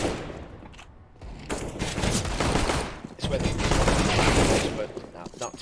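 AK rifles firing in the shooter CS:GO during a league match, with dense bursts of gunfire in rapid volleys and sustained automatic fire, loud and close, with a short lull near the middle.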